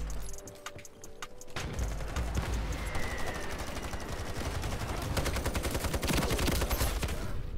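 SG553 rifle fire from the Ironsight shooter game rattles out in rapid sustained automatic bursts, loud and close, with other gunfire mixed in and no voices.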